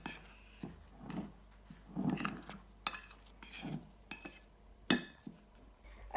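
A spoon stirs potato bhajia ingredients with chickpea flour in a bowl, giving close, irregular clinks and scrapes against the bowl every second or so, with quiet pauses between strokes. No voice is heard.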